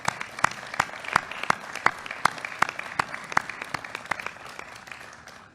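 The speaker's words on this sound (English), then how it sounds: "we should clap for the families." An audience at a U.S. Capitol ceremony honoring Capitol Police applauds the officers' families, a sustained round of crisp, fairly close clapping heard on its own.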